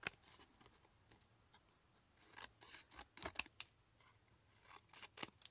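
Scissors snip paper for a purple and teal craft journal, a series of quiet, irregular cuts with short sharp bursts between pauses.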